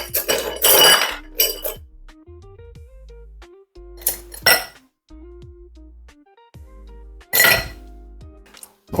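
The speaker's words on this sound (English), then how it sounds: "So we need to get our ice straight in our glass." Ice cubes dropped into a glass while making Jamaican ginger beer: several bursts of bright clinking and rattling, each followed by ringing glass tones that decay into near silence, close and loud.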